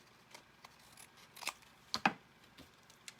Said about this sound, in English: I can take my little scissors and trim off my excess